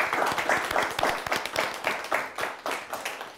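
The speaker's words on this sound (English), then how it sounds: "Let's give them both a nice round of applause." Studio audience applauding two quiz show teams, a dense, steady burst of clapping from many hands close by, lasting throughout without speech.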